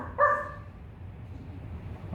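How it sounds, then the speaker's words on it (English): A dog near a small group of huts gives one sharp bark early on, then only quiet background hum remains. "you hear a dog barking"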